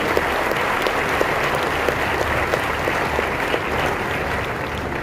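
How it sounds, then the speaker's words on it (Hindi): A church congregation claps loudly together in praise of God, a dense and even roar of many hands close by that lasts throughout without any speech. "सब मिलकर जोरदार ताली बजाएंगे परमेश्वर के लिए"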